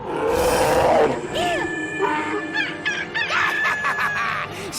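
A cartoon bear lets out a loud, close roar at the start, followed by a jumble of squawking, fowl-like cries and animated growls in a busy, chaotic burst.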